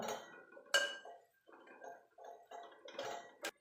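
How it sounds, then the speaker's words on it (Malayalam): A spoon clinks and scrapes around a bowl while a bread and egg mixture for masala bread is stirred, soft wet swishes broken by a few sharper taps against the rim, close and quiet. "നന്നായിട്ട് ഇളക്കി കൊടുക്കുക"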